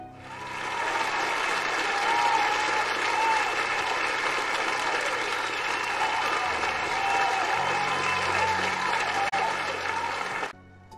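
A crowd in the video game Save Room claps and cheers continuously for several seconds, a dense, full wash of applause that cuts off abruptly near the end.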